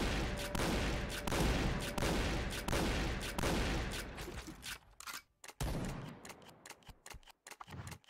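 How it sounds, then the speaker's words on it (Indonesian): Rapid volleys of revolving shotgun fire in the video game Point Blank, dense repeated blasts that carry loudly through the first half and then break into sparser, separated shots. "Kemudian kita tes shotgun putarnya. Nah, jadi kita tes tembak."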